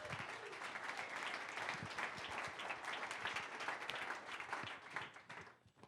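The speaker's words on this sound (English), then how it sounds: "If you guys can just help us give a round of applause." A crowd at an outdoor-industry summit keynote breaks into sustained applause, many hands clapping together in a dense wash that holds steady, then thins and fades near the end.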